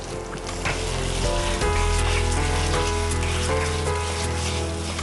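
Shallots and garlic frying in coconut oil with turmeric, a steady close sizzle and crackle throughout with no talking.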